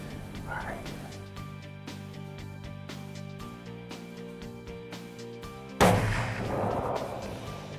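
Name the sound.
gunshot fired at a buck while hunting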